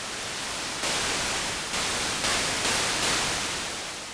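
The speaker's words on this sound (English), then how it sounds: "on your DCO, you have the noise generator" Hiss from the noise generator of a Roland Juno 60 analog synthesizer, a steady broadband static that steps up in level in several distinct jumps, heard alone with no talking.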